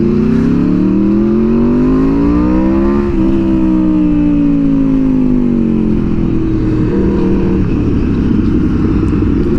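A close, loud Aprilia motorcycle engine revs up then settles, its throaty pitch rising and falling while it runs continuously.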